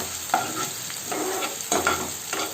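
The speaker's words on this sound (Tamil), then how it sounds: "ஸோ வெங்காயம் போட்டு அது லைட்டாக ப்ரௌன் கலர் வர வரலையும் வெங்காயத்தை நல்லா வதக்கிக்கலாம்." Onions sautéing in a pan with mustard seeds, urad dal and curry leaves for a South Indian ladies finger fry, giving a steady sizzle broken by several spatula stirs and scrapes, close and alone with no talk.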